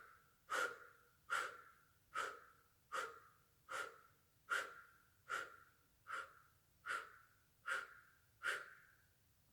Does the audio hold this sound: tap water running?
no